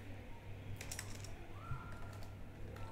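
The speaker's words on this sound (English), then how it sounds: "Once done, type exit" Someone types the exit command on a computer keyboard, a short burst of soft, close key clicks over a faint background hum.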